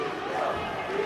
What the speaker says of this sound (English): Now the Croatian contingent, you may be able to hear them in the background, cheering on Mirko Cro Cop